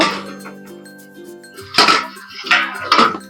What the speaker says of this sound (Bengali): আমি ঢাকনিটা খুলে নেব